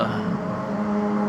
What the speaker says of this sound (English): There's that motorcycle. It's really noisy. It's going up